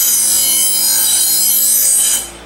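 A commercial mower blade is sharpened with a steady, loud, close abrasive rasp along its edge, holding for about two seconds before easing off.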